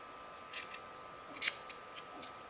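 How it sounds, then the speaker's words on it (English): Scissors cutting old fabric for a breathable face mask, a few short crisp snips close by, quiet otherwise. "And then cut this extra piece off here in the corner."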